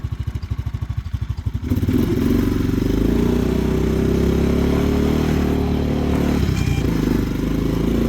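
An ATV engine in high range, first gear, putters at a pulsing idle, then revs up sharply and holds a loud, steady drone close by, with no talking.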